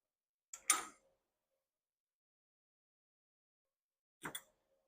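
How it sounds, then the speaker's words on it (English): A workpiece being clamped to a work surface while restoring a 1983 Blazer: two short, sharp mechanical clicks with a light creak, about 3.5 seconds apart, close by in a quiet room. "we are going to clamp this down to our work surface"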